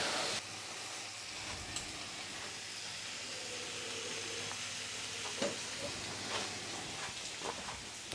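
An English breakfast sizzles and fries in an all-in-one cooking pan, giving a steady close hiss throughout with occasional soft clinks of turning and stirring.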